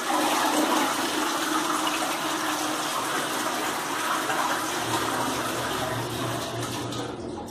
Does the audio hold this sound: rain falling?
no